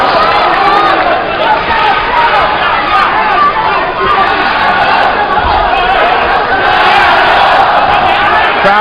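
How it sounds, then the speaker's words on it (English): The crowd at a professional boxing match roars steadily and loudly, a dense wall of cheering and shouting that barely changes level throughout. "Crowd getting behind Shiming now"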